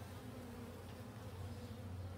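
Honey bees buzz steadily around an open beehive, a dense continuous hum holding close and even throughout with no voices over it.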